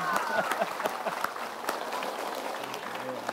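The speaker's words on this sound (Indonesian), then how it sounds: "Tepuk tangan untuk Papa Tebong." Studio audience applause for Papa Tebong at an Islamic religious television talk show, steady dense clapping that fills the whole stretch with a voice speaking faintly underneath.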